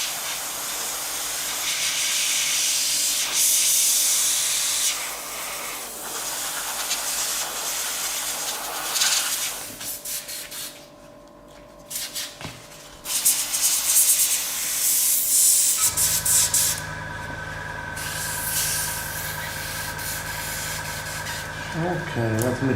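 An airbrush sprays ink onto a live painting of Witchhorn III, giving a steady close airy hiss with brief pauses and bursts, over a low background hum.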